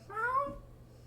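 A single short, fairly close meow from a cat, rising and then fading, followed by quiet background.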